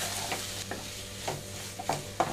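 Potato fry with spices being stirred in a pan: a spoon scrapes in several distinct strokes at an uneven pace over a soft steady sizzle, close and alone without voices.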